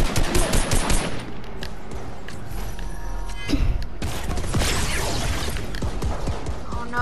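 Rapid video-game gunfire in an Avengers Endgame-style mode, bursts of loud automatic shots with crashes and impacts, continuing almost without pause and briefly thinning before a dense barrage resumes.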